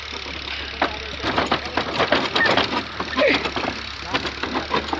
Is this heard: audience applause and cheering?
no